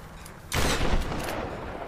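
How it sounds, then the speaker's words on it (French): A grenade launcher fires in the Tomb Raider video game with a sudden loud blast followed by rumbling, crackling explosions that roll on for over a second. "Là, c'est de la grenade."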